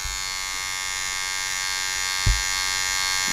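Electric hair clippers buzz steadily and close during a taper fade haircut, a continuous even drone with one brief soft knock partway through.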